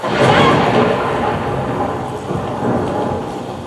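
A thunderstorm rumbles heavily on a dark, stormy night, a loud roll of thunder that swells at the start and keeps grumbling beneath steady rain.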